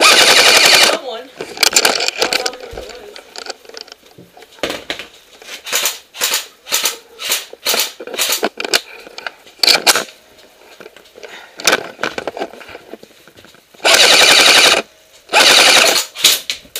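Paintball markers fire during an outdoor paintball game, sharp pops coming in rapid bursts and runs of shots, with two loud close volleys near the end and shouting voices between them.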